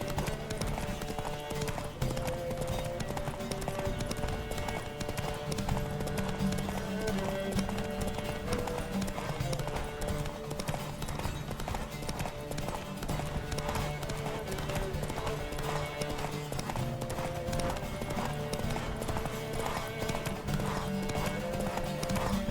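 Steady hoofbeats of a galloping horse in The Witcher clip-clop at a fast, driving pace throughout, layered over a constant bed of music, with the horse whinnying briefly.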